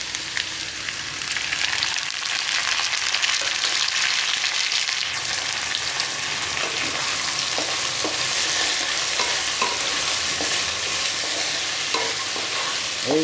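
Sliced okra fries in a hot pan while being stirred, giving a loud, dense, steady sizzle with frequent scraping stirs throughout and no voices.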